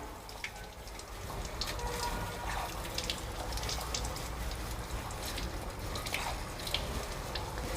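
Dyed textile samples rinsed under running water: a steady, soft hiss of flowing water with faint splashes and drips throughout, fairly quiet and uninterrupted.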